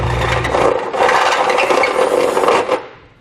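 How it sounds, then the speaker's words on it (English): A step drill bit enlarges a hole in the metal frame rail of a 2016 Subaru Legacy, a close, harsh rasping grind lasting about three seconds before cutting off. "Now I'm going to use a step style drill bit to do that."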